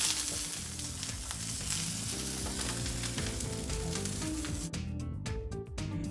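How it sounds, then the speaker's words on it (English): Haricots verts sauté in olive oil in a chef's kitchen, giving a steady, close frying sizzle under a bed of music, with the sizzle growing sparser near the end. "So we're just going to saute these."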